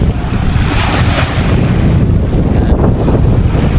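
Ocean waves at high tide on a South Cebu shore roll in a continuous loud wash of surf, heavy with wind buffeting the microphone.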